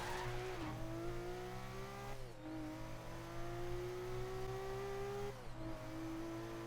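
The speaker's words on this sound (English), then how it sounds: "That was a good drift, and I am chaining." A car drifting in the video game Forza Horizon 3, its tires squealing in a long, sustained wail over a steady engine drone, with two brief breaks where the pitch dips before the squeal resumes.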